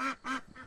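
Runner ducks quack loudly at close range, giving three harsh, nasal calls in quick succession with no other sounds around them.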